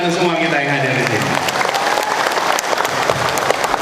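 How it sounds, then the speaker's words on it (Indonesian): Large crowd at an outdoor political rally in Garut breaking into loud, sustained applause and cheering, while a voice trails off at the very start. "Boleh tepuk tangan untuk semua kita yang hadir di sini."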